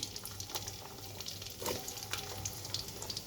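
Chopped ginger and garlic sizzle in hot mustard oil for a pickle, a quiet, steady frying crackle with small pops, close by and without talk.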